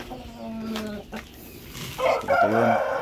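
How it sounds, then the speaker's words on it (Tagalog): A chicken clucks and gives a short crow in a small breeding space, with a couple of brief calls and then a louder, harmonic crowing burst near the end, close by and without speech. "So may manok na nakapasok."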